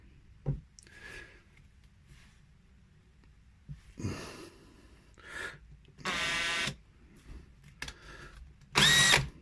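A power drill with a 4mm bit whirs in short bursts through a plate, spinning up and down a few times with quiet gaps, the last burst loudest and highest-pitched.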